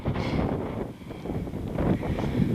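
Wind buffets the microphone in low, rumbling gusts that swell and ease on a wet, windy day outdoors, with no voices present.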